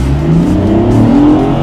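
A BMW 1.5-liter three-cylinder twin-turbo engine in a prototype pulls hard under acceleration, a loud, close, rising drone with strong low harmonics climbing steadily in pitch.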